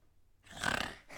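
A person imitates snoring with the voice, making one loud, rasping, snort-like snore close to the microphone, followed by a short, quieter breathy trail.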